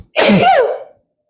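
One loud, close sneeze, a sharp burst that fades within a second, with silence before and after.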